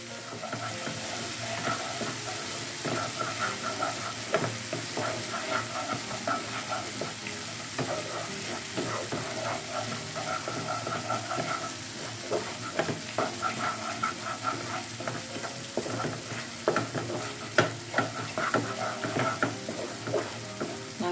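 Onion is stir-fried in a wok for a mustard greens, egg and meatball dish, giving a continuous sizzle with repeated scraping strokes of the spatula, close and steady throughout.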